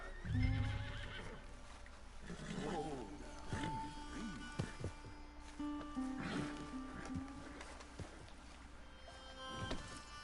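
Spooked horse in the video game Red Dead Redemption 2 whinnies and snorts amid clip-clopping hooves and splashy movement, with someone talking over parts of the scene.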